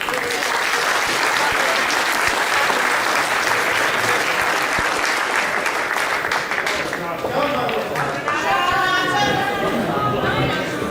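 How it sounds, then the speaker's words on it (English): A crowd applauds the runner-up after the 2011 Australian national men's singles bowls grand final. Sustained, loud clapping fills the air, and an announcer's voice comes in over it toward the end. "Warm round of applause for Justin Sajich."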